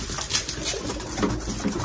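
Racing pigeons coo inside a loft at feeding time among young birds, soft repeated throaty coos close by with light fluttering and patter in between.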